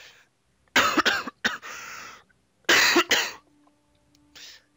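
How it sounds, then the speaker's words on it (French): Several harsh coughs in two close bursts, with a faint throat-clearing cough after, fairly near and loud against a quiet background. "Suis désolé d'avoir toussé, hein."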